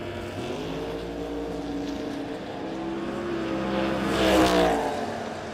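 Drag race pass of a Chevelle and a Camaro in a no-box 660 shootout, loud continuous engine roar with harmonic tones that rise through the gears and swell to a peak near the end as the cars blast past.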